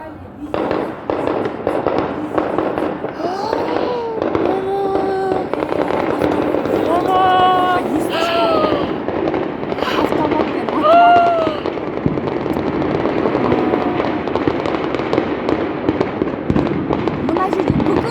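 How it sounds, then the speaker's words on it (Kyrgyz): Automatic rifle fire in a city, sounding as rapid crackling bursts scattered throughout at a distance, with people talking and exclaiming close by over it. "Автоматпен атып жатыр."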